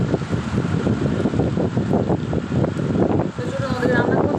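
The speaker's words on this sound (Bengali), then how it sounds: "অতটা পরিমাণ বৃষ্টি হচ্ছে আর তার সঙ্গে প্রচণ্ড ঝোড়ো হাওয়া।" Heavy rain driven by a strong stormy wind makes a dense, constant roar with gusty rumbling across the whole stretch, and a voice talks over it.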